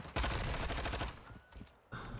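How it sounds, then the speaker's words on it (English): Dense rapid gunfire from the Call of Duty video game during a collegiate esports match, loud and continuous for about a second before thinning into scattered shots and a fresh burst. "in the midst of all that gunfire"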